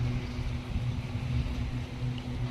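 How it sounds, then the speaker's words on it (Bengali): A speedboat crosses the sea off Havelock Island with a steady, droning engine hum and some wind and water wash, moderately loud and unbroken, with no voices. "এবং দ্রুতগামী বোট গভীর সাগরে অতলে পৌঁছে দিয়ে আবার ডাঙায় ফিরে আসছে।"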